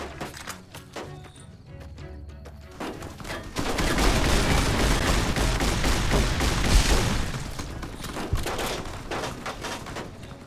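Shotgun gunfire in Fallout New Vegas, in hardcore mode: a dense, loud run of overlapping blasts sets in a few seconds in and keeps going steadily, after quieter game noise at the start.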